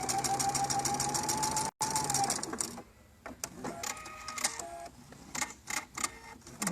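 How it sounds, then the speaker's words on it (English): A sewing machine runs a seam, a fast, steady mechanical whir with a faint tonal hum. It pauses once, then gives way to clicks, handling noises and short bursts of stitching. "And then you sew your next seam."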